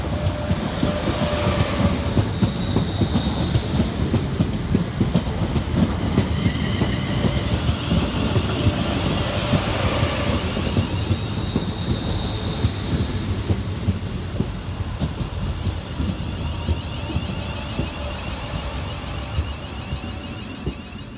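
A pair of coupled Class 350 London Northwestern Railway units on the London Euston to Crewe service pull into Stafford, with a continuous rolling rumble and clatter of wheels, a few faint tonal whines, gradually easing.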